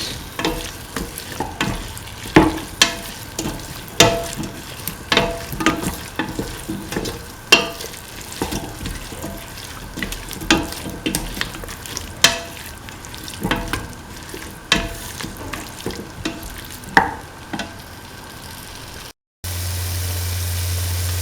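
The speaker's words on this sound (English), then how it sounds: "Thoroughly mix." A potato, green pea and coconut stew mixture being stirred and fried, with steady sizzling and repeated scraping clicks of a spoon against the pan, close and continuous, ending with a brief cut to a low hum.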